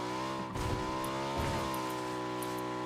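A car engine in PUBG drones steadily at high revs while driving on ice, a sustained harmonic whine with two brief rough bumps or skids, no voices.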